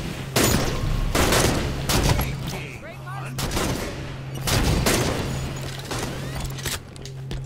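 Halo 5 multiplayer firefight with repeated loud gunshots and blasts over a steady low game hum, mixed with other clattering game effects.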